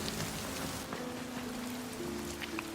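Steady rain pours down outdoors, a dense continuous patter of drops on surfaces with no voices, even and close throughout.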